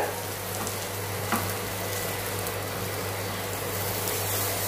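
Cheese garlic bread frying in a covered pan, a steady low sizzle with a faint hum underneath, continuous and even with no voices.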